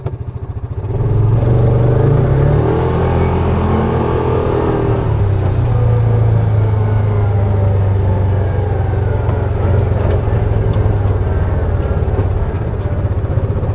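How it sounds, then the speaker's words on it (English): A loud Yamaha Viking 700 utility vehicle engine revs up, then drops into a long, steady, lower drone as it engine-brakes, with no talking. "So what I want to show you here, guys, is just the engine braking"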